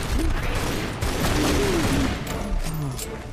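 Heavy 50 cal gunfire in Tomb Raider Anniversary, a dense continuous barrage of rapid shots with mechanical rattling, loud and close, with a voice briefly audible underneath.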